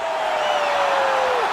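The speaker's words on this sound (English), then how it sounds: "Crowd is absolutely loving it." Brief burst of arena crowd cheering after a knockout in EA Sports UFC 4, a loud, steady roar of voices with a whistle-like tone gliding downward across it.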